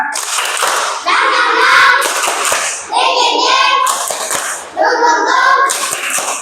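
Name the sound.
children's rhythmic clapping cheer (tepuk semangat)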